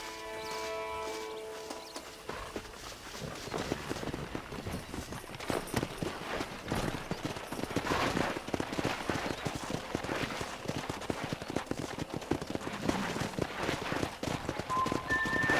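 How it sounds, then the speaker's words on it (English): Horse hooves clip-clopping in the Red Dead Redemption video game, a steady stream of hoofbeats under ambient game sound, fairly faint but continuous through the scene. "there's a pack of wild horses nearby"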